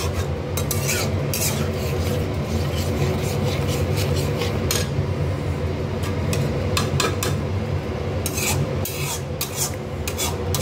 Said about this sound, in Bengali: এবার আমি মশলাটাকে আরেকটু কষিয়ে নেব, আরও সামান্য কষাবো